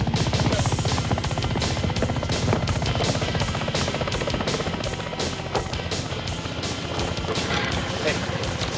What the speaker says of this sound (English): I will lead the chopper away from you.